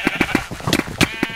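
Several sheep bleat in a video game, a string of short, fairly loud calls repeating about every fifth of a second, with a couple of longer, higher bleats mixed in.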